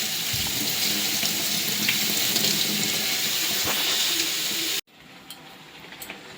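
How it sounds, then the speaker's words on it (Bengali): A kitchen tap runs steadily into a sink while dishes are washed, a close, continuous hiss of water that stops abruptly near the end, leaving quieter room noise. "তো বাসন টাসন সব ধুতে হবে।"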